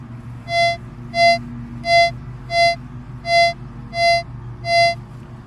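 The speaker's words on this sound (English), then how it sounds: "located what I think is a deeper signal" Target signal tone from a Nexus Standard MP V3 metal detector on a deep target: seven evenly spaced, bright beeps repeating steadily over a low rumbling engine hum in the background.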